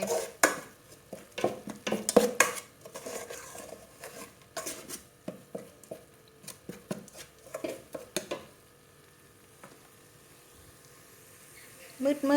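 Beef curry with homegrown pumpkin is being dry stir-fried in a pan over low to medium heat. A utensil scrapes and clinks against the pan in quiet, irregular strokes, with brief pauses between them.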